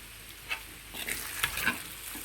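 Corn fried rice seasoned with salt and pepper is stirred in a sizzling pan, with a steady frying hiss and a few soft scraping strokes, close and without talk.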